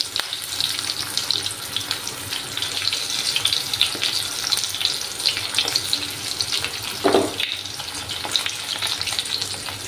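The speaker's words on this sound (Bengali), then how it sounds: "বেশি ভাজবো না বেগুনগুলোকে, সামান্য 2 মিনিটের মতো ভাজবো।" Eggplant slices for begun bhaja frying in a pan on low heat, giving a steady close sizzle and crackle that runs throughout with a brief spatter burst near the end and no talking.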